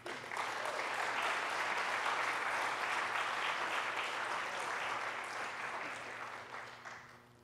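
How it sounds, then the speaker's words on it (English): An evening audience at a talks event claps loud and steady for several seconds. The dense applause fades out near the end. "A big round of applause for our talkers this evening"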